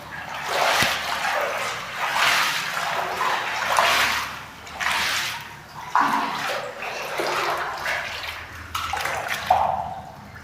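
Water pouring into an overhead rooftop tank during repair and testing of CPVC pipe work, a steady splashing rush that swells in repeated surges, with a dog barking faintly in the background.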